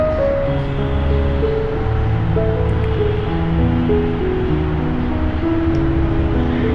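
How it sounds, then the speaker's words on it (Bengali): Chopped onion stirred and fried in a pan gives a steady, dense sizzle with a constant wash of frying noise close up and no talk over it. "পেঁয়াজটা নাড়াচাড়া করে আমি ভেজে নিচ্ছি।"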